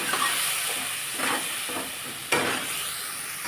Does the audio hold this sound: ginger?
yes